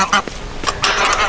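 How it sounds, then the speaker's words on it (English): Several geese honking loudly and close by on a farm, a few harsh, overlapping calls in quick bursts with short gaps. "I can never just eat in peace with these noisy geese."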